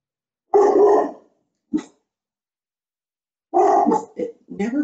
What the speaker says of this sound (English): She's the most docile dog, but when she barks, man, you would think you were being attacked